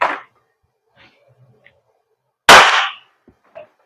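A Walther PDP Compact airsoft pistol, plastic-bodied and made by Umarex/VFC, fires two sharp, loud snapping shots about two and a half seconds apart, with faint mechanical clicks and handling noise in between.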